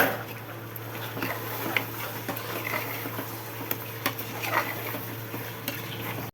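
Whole green chilies fry in a pan for biryani, with a continuous close sizzle under repeated scraping and clinking of a spoon stirring against the metal pan.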